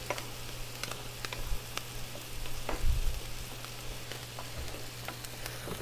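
Flour cooking down in bacon grease on a Blackstone griddle, a steady low sizzle with scattered ticks and pops, swelling briefly near the middle before settling back to a gentle fry.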